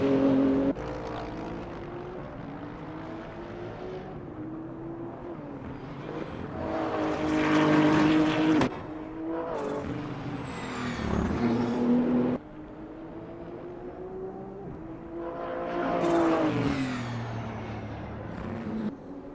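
A BMW GT3 race car at Sugo circuit revs and shifts through gears in long rising engine pulls, loud and droning, with pitch climbing and dropping between shifts and no talk over it.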